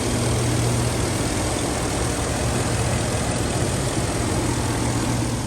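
Loud, steady low rumble of a 2011 Cadillac Escalade's 6.2-liter V8 engine idling nearby, constant with no change in pitch.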